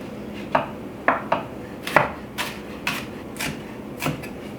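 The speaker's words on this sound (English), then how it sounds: "once you've got that all chopped up" A knife chops green onions on a cutting board, about eight crisp separate strokes in an uneven rhythm, close and moderately loud with no talking.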